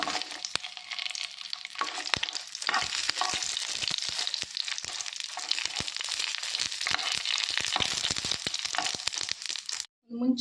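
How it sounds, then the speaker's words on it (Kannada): Chilies crackle and sizzle in a little hot oil in a pan while being stirred for mint chutney. Sharp pops and scraping sounds run throughout, then stop briefly near the end. "ಮುಂಚಿನೊಂಜಿ ಫ್ರೈ ಮಾಡ್ತದ್ದು ಗೆತ್ತೊನ್ನೆ"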